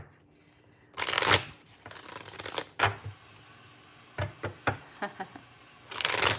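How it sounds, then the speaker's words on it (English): Tarot card decks being shuffled up close in a quiet room, with bursts of riffling and a run of short, crisp card taps and slaps, mostly on their own. "I'm also shuffling to see which decks are going to be willing to work with us tonight"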